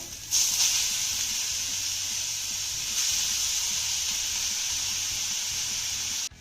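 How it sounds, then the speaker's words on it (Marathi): Grated bitter gourd dropped into a hot pan, a loud continuous hiss that swells at the start and again midway, then stops abruptly, with no talking. "तर याच गरम तव्यामध्ये आपल्याला किसलेलं कारलं घालायचं आहे"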